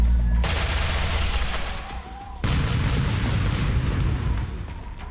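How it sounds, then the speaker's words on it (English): Missile bombardment in the video game Reverse Collapse: loud crackling blasts and rumbling booms in two dense bursts, with dense gunfire-like rattle between the explosions. "Initiating missile bombardment."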